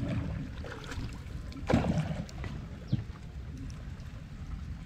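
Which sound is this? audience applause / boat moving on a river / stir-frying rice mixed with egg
boat moving on a river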